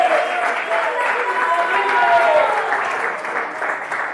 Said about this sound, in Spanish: Demos palmas de alabanza al Señor.